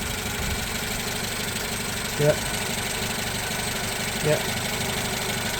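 A Renault Twingo engine idles steadily nearby with its radiator hot and coolant being bled, a constant low mechanical hum broken by two brief clunks, with a short spoken word.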